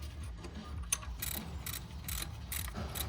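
A ratchet tightens the alternator bolt on a Honda Civic EG, clicking in several quick bursts of close, rapid pawl ticks with brief pauses between strokes.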